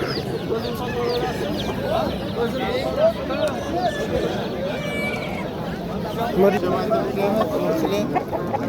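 Roosters and hens cluck and call steadily among crowded stalls at a poultry market in Namangan, a thick layer of bird noise running under nearby talk.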